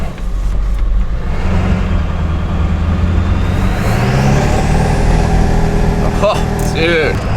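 A Ford OBS F350 Power Stroke diesel pickup engine drones low and steady, then rises in pitch as the truck accelerates, loud and close, with a few sharp squeaks near the end and voices talking over it.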